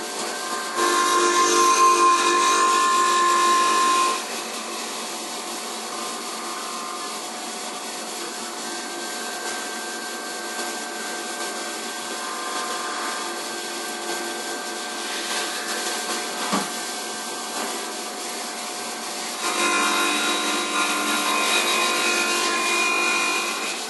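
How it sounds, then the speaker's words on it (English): A CNC milling cutter facing a 1 mm step through an FX-4WD top arm gives a steady, loud whining hiss with shifting tonal squeals, stronger at the start and end, with no talking. "the same cutter's going to come in and face the step, the 1mm step that's through the middle of the arm"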